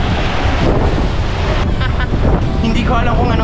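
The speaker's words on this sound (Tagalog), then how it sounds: "Kung di nyo ako maririnig guys, ang hangin dito." Strong wind roars across a white sand beach at Bolinao, buffeting the microphone with loud, constant rumbling gusts. A voice talks faintly beneath the blast.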